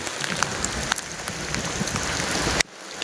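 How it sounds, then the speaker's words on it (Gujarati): Heavy, fast rain pours onto standing water outdoors, a dense continuous hiss with scattered splashing drops, loud and close, cutting off abruptly near the end. "ફાસ્ટ વરસાદ આવ્યો, જો પાણીમાં જો"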